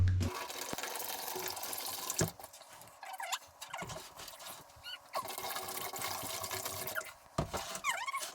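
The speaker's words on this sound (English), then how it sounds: "3 gallons of water go into the fermenter." Water pouring into a homebrew fermenter for a Citra session pale ale, a faint trickling splash with intermittent gurgles and clunks, fairly quiet and close.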